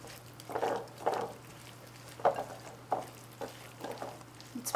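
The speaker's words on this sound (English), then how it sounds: "Take your tongs and mix it all." A wilted ramp salad is tossed with tongs in warm dressing, giving soft wet squishing and stirring bursts in a quiet kitchen under a faint steady hum, with no talking.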